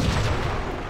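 Rapid gunfire from a weapon in the video game Halo: Spartan Strike, a dense, sustained burst of loud overlapping shots with heavy low-end booms across the whole moment, no voices.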